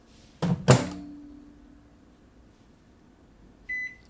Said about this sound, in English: Set it in the microwave.